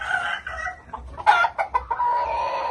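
Yellow-legged hatch chickens cluck in short, irregular bursts and drawn-out calls, close by and fairly loud, with no talk.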